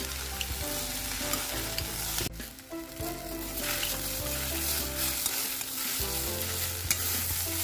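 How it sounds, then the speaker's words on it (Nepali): Slimy okra stir-fried in a pan for a pickle, a steady close sizzle with scraping and stirring of the spatula throughout, and no talking. "अब चाहिँ यसमा हाल्दैछु चिप्ले भेन्डी। पकाउनु पर्छ, नछपिकन अनि बल्ल मिठो हुन्छ।"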